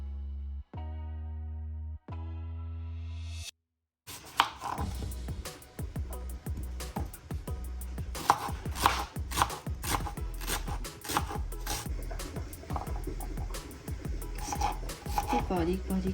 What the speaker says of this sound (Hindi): बारीक बारीक लहसुन को हम लोग जो है ना कट कर लेंगे